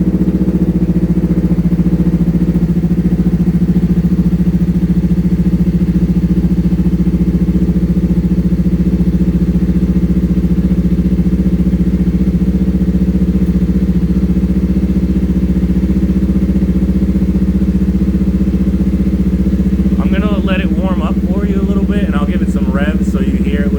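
A 2024 Kawasaki Eliminator motorcycle engine idles steadily and loudly throughout, a low rumbling drone, with a brief burst of higher mechanical sound near the end.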